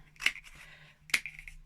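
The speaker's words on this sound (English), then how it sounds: "Big strong pair of scissors are really recommended for this" Big, strong scissors trim paper for a daffodil craft, giving two crisp, close snips about a second apart, each followed by a softer rustle of paper.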